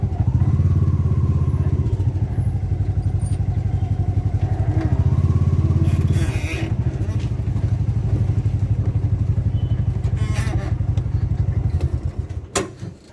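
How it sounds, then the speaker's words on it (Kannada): A motorcycle rumbles steadily up close near a temple, its engine throbbing low with slight rises and dips, a few clatters and thumps, before it winds down and stops at the end. "ಇಲ್ಲಿ ಪಕ್ಕದಲ್ಲಿ ಗಾಡಿ ಪಾರ್ಕಿಂಗ್ ಮಾಡ್ಬೇಕು"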